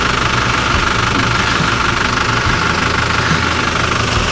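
A boat engine runs in its engine bay, heard up close as a loud, steady, even drone with a faint knocking texture and no breaks.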